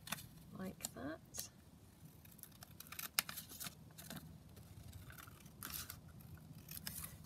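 Scissors snip through paper for a junk journal, a few crisp cuts close up among soft rustling and handling noises, with quiet talk nearby.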